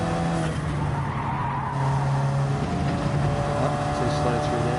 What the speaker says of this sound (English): The RX-7 with a 787B engine in it. Sounds like Mad Mike's Beast.